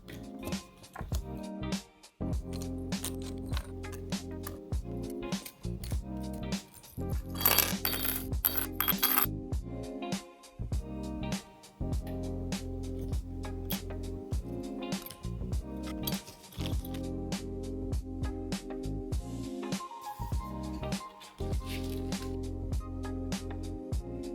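Candle making kit pieces, cut wicks and sticker pieces, are packed into small bags, giving close, continuous crinkling and rustling of plastic with repeated light clicks and handling noises, no speech.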